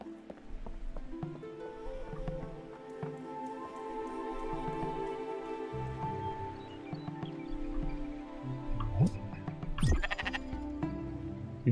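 Sheep in the video game Spiritfarer bleat repeatedly, several calls overlapping with a soft rain-like ambience and game music, with a sharp rising squeal near the end.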